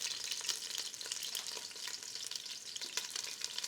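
Chicken pieces cooking lightly in a pan for Cajun gumbo, a steady close crackling sizzle with dense spitting pops running throughout, alone without talk.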